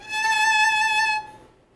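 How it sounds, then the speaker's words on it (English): A single sustained bowed violin note, E3, steady and clear with rich overtones, held about a second before fading out. "This is the sound of the E3."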